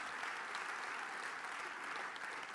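Large audience at a political party congress in France applauding the Prime Minister's speech, a dense continuous roar of clapping, faint and distant, with no voices.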